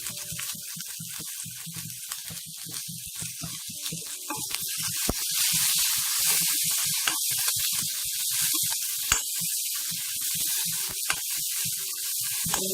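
Chopped, squeezed and salted banana flower tossed into a hot pan for thoran, giving a steady hissing sizzle with crackly spatters that builds and stays loud throughout.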